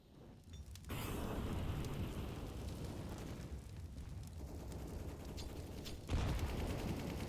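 A grenade goes off in a competitive shooter match: a sudden broad blast followed by a sustained rumbling roar, with a second heavier burst near the end, no voices over it.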